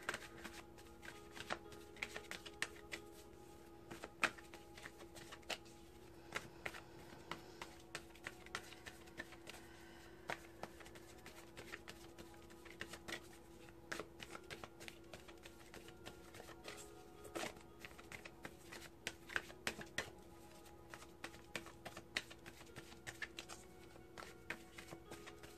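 Tarot cards are shuffled close up in a continuous, quiet patter of soft riffling and light slaps, with steady irregular flicks and taps running for about twenty-five seconds and no voice.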